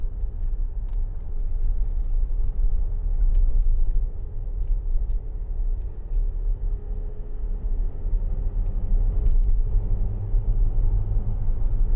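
A 2011 Land Rover Discovery 4 with the 3.0 SDV6 diesel, heard from inside while driving: a steady low engine and road rumble with faint knocks and rattles, continuous and without speech.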